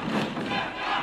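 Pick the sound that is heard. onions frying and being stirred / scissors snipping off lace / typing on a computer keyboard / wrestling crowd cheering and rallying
wrestling crowd cheering and rallying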